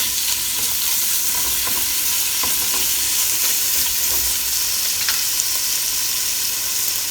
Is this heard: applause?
no